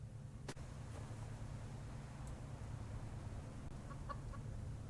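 A chicken in the video game Subsistence gives a few faint, soft clucks near the end, over a constant low ambient hum.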